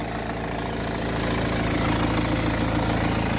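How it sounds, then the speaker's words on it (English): A 2014 BMW X3 xDrive 20d's two-litre single-turbo N47 diesel engine with chain-driven timing idles steadily nearby, a low, even rumble with a faint rhythmic clatter and no change in pace. "the twin power turbo, which is a two litre single turbo charged uh, diesel engine"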